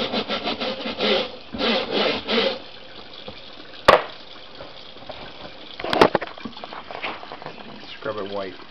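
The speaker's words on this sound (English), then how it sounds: "I scrub this edge until it's all clear" Scrubbing algae off the screen of an aquarium algae scrubber on a 120-gallon reef tank, heard as bursts of wet rubbing and rasping strokes, close and fairly loud, with a couple of sharp knocks and quieter gaps between strokes.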